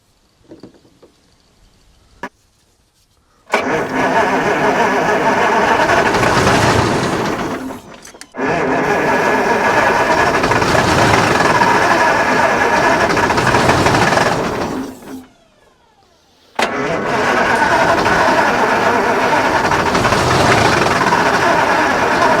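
Supercharged two-stroke V8 Detroit Diesel engine in a Kenworth truck that had been sitting, cranking in three long loud sustained bursts separated by brief pauses.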